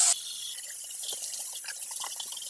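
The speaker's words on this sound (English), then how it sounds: "Run hot water to clean out the pipes from any borax you may have spilled." Hot water runs steadily from a tap into a sink, a soft continuous hiss with faint splashing, after a brief brighter burst at the start.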